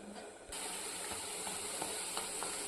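Mysore bonda batter frying in hot oil, a steady crackling sizzle that jumps louder after the first half second and then holds with small pops throughout.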